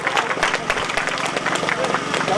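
An audience at an SSLC teachers' felicitation ceremony in Kaladagi claps for an honoured teacher, a dense, steady patter of many hands, fairly loud and continuous throughout.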